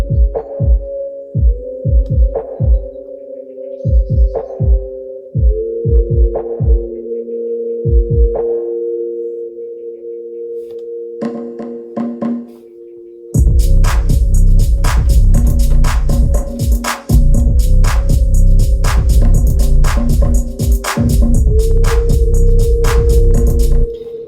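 A warm sustained synth pad rings with a reverberant tail beneath plucky percussive hits, then swells into a loud, dense full mix partway through.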